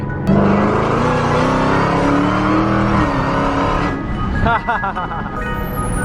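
A Nissan GT-R pulls hard in third gear from 40 to 80 mph, its engine note rising steadily and loud inside the cabin, with a passenger talking over the drone and a brief shift in tone near the end.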